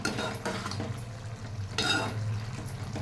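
Ridge gourd and chickpea curry cooking in a pan, with steady simmering and frying noise and a few scraping stirs of a utensil against the pan, close and fairly loud, with no talk.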